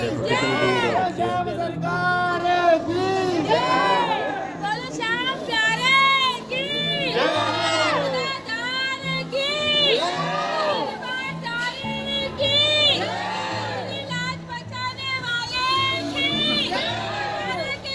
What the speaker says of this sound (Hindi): देखो कितनी भीड़ हो रखी